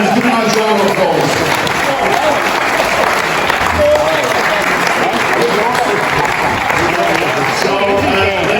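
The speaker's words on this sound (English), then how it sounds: "Give him a round of applause" An audience at an opening address applauds the director, the sustained clapping loud and even throughout, with voices talking beneath the applause.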